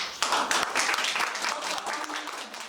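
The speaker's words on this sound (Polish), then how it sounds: "myślę, że im należą się brawa" A burst of applause from a small group, clapping steadily for a couple of seconds before gradually thinning out.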